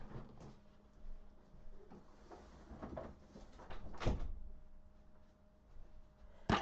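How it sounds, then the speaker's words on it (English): A room door is shut at home during a worldwide earthquakes stream, one firm thump midway through a quiet stretch of faint rustling and handling sounds, with a second knock near the end. "I'm gonna shut my door while it's all making all the noise."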